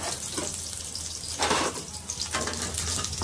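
Chopped peeled garlic and mustard seeds frying in hot oil, a steady close sizzle and crackle with brief louder spatters, no voices.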